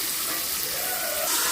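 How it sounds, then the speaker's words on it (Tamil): Onions and curry leaves sizzle steadily in hot oil, a continuous close frying hiss with no voices over it. "இதில் இப்போ எண்ணெய் ஊற்றி கருவேப்பிலை வெங்காயத்தை நல்லா வதக்கிட்டு இருக்கேன்."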